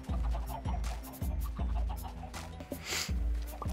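Chickens clucking in Minecraft, a busy run of short game-style clucks and fowl calls layered over steady in-game background sound, fairly close and continuous.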